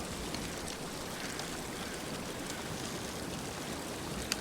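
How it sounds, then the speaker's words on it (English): Water flowing beneath a bridge at a cascading gap in The Long Dark's frozen backcountry, a constant close rushing wash with faint droplet patter, steady throughout and free of voices. "water flowing under the bridge here."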